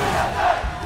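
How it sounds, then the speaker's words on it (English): A large crowd roars and chants at a League of Legends playoff final between TSM and Cloud9, heard as a loud, dense, sustained wash of voices in a brief burst. "Conflicting chants from the crowd here in Game 5 with 5 kills for both teams"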